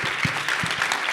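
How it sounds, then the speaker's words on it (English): An audience at a conference session gives a big round of applause, a dense steady wash of clapping with a few low thumps, close and evenly loud for the whole short stretch. "I'm just going to ask everybody to do one more big round of applause"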